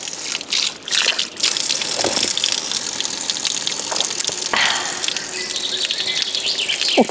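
Natural spring water gushes steadily from a fountain in Gërmia park, a constant rushing wash with no break, while insects and birds sound faintly in the open-air background.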